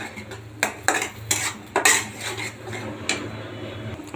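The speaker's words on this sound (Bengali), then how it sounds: "এখন মশলা ভালো করে কষাতে থাকবে" Spices being stirred in a cooking pot for a thin fish curry, a metal spoon scraping and knocking against the pot in uneven strokes over faint sizzling, close and clear.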